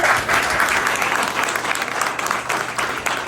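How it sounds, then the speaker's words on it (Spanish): Audience at a lecture-style gathering gives a strong round of applause, dense clapping from many hands that pulses and slowly thins over a few seconds. "Un fuerte aplauso para"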